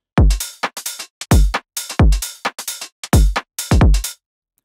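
A UK garage drum loop built in FL Studio thumps with punchy deep kicks paired with snappy hats and claps in a bouncy, swung pattern, loud and dry for nearly five seconds without speech.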